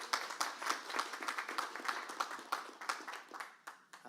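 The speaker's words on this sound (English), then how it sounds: "A clap for Tono, please." A modest audience at a high-level roundtable of the 2023 OGP Global Summit claws out a brief, fairly faint round of clapping for a speaker, the individual claps loosely rhythmic and thinning toward the end.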